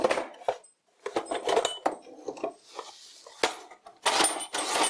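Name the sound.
rummaging through a box of brass lathe bits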